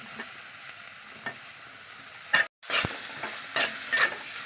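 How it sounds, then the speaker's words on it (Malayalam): Tomatoes and spices sauté in a pan with a steady soft sizzle, broken by the scrape and clink of a spoon stirring a few times, close and fairly quiet. "എന്നിട്ടൊന്ന് വഴറ്റിയെടുക്കാം."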